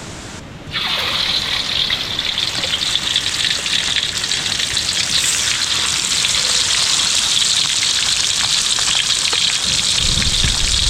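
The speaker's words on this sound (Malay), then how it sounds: "Kita nak goreng ikan bawal." Pomfret fish hits hot oil in a pan at a campsite, a sudden loud sizzle that then holds as a steady, bright crackling hiss, close up and without talk.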